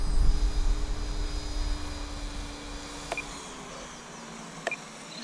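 A T-Rex 500 radio-controlled helicopter with a torque tube tail hovers nearby, its rotor and motor keeping up a steady, moderately loud whine and drone. Two brief clicks occur midway, and no one speaks.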